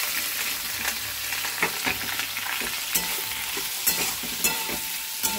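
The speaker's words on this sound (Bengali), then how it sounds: "ভালো করে ভাজি এটা।" Cut potatoes fry in hot oil in a wok with nigella seeds and three green chilies, a continuous close sizzle punctuated by soft scraping stirs.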